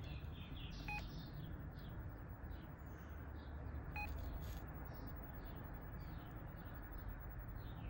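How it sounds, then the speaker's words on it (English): A Satlook satellite signal analyser gives two short, sharp electronic beeps about three seconds apart, faint over a steady background hiss. "Let's put the beep off, it's quite annoying."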